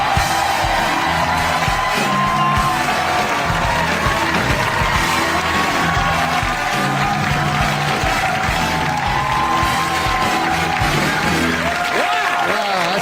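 A studio audience on a talk show cheers, whoops and applauds as Norm MacDonald walks out, a loud, dense roar that holds steady for the whole stretch.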